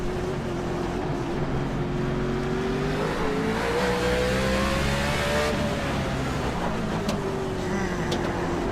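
NASCAR race cars roaring around Sonoma Raceway in the iRacing simulator, a loud continuous engine drone with rising and falling pitch as the car accelerates and shifts.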